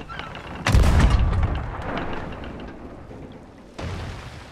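Ship cannons in the pirate game Sea of Thieves fire two heavy booms about three seconds apart. The first is louder and rumbles away before the second blast.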